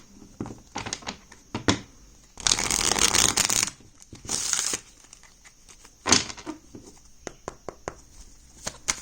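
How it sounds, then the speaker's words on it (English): Tarot cards shuffled by hand at close range: scattered light card taps and flicks, broken by two longer bursts of dense riffling and a shorter one, then more sporadic snaps. "Let me shuffle."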